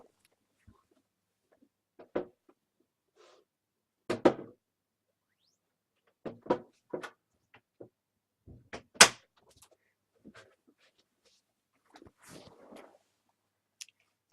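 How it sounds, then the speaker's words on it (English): Scattered clicks, creaks and knocks of a door opening on its own in an otherwise quiet room, one sharper thud partway through. "the door's just opened on its own."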